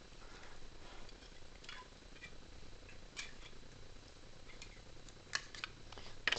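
Scissors snipping through a piece of a toy stunt set, a few faint, quick close clicks and snips spread over a quiet room background with soft ticking sounds.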